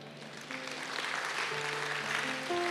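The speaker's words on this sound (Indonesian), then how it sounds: "Tepuk tangannya bisa lebih dahsyat lagi buat Tuhan" Congregation applauding in a church, soft continuous clapping that builds slightly, heard under sustained keyboard or organ chords.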